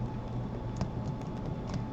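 Keys on a computer keyboard tap softly in an irregular patter while a hex color code is entered into Inkscape, faint over a steady low background hum.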